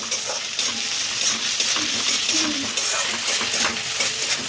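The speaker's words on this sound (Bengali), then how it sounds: "দেখো মশলা পুরো ভাজা হয়ে গেছে" Ginger paste and spices frying in a pan, a steady bright sizzle running throughout with a spoon stirring and scraping close by, no talking.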